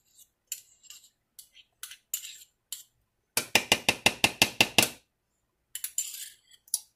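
A spoon scrapes and taps against a food processor while 3 tablespoons of butter are scooped in, giving scattered sharp clinks, a quick rattling burst of about a dozen taps in the middle, then a few more clicks.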